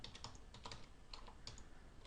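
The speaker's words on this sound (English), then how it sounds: "And I'm going to type in" A short run of quiet, close keystrokes as a web search is typed on a computer keyboard, with irregular taps and no voices.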